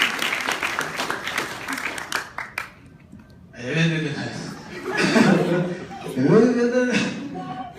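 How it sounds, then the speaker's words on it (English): An audience at a senior class banquet applauds with chuckles, and the clapping fades out after about three seconds. Talk follows at close range. "Nice round of applause for our national spokesperson for no texting when driving"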